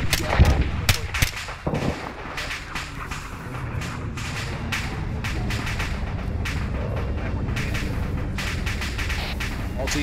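ArmA combat game audio with a burst of sharp gunfire and a heavy blast near the start, followed by scattered rifle shots and rumbling battle noise, with voices in the mix.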